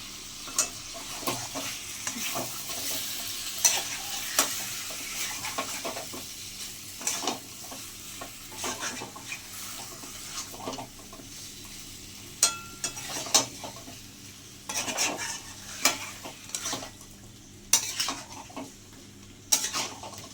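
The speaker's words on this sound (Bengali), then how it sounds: "লবণ দিয়ে আবার কষতে হবে খানিক্ষণ ধরে" Chicken pieces with salt are stir-fried in a pan for a light chicken curry, a soft steady sizzle under repeated spatula scrapes and clinks against the pan, close and unvoiced.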